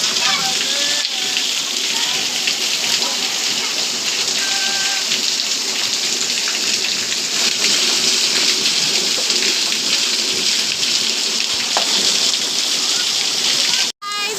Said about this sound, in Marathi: आमच्याकडे पाऊस पडत आहे हे बघा पाऊस खूप मोठा पाऊस पडतोय